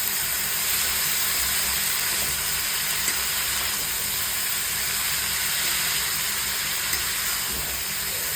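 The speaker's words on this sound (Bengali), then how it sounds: "ভাপিয়ে ভাপিয়ে বাঁধাকপিটা সিদ্ধ করব।" Cabbage steams in a covered pan after frying, giving a steady, continuous hiss with a faint bubbling undertone that stays even throughout, with no voices.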